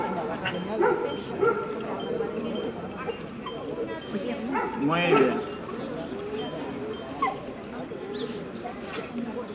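A dog at a canine exhibition gives short yips and soft whimpers while a person speaks briefly nearby.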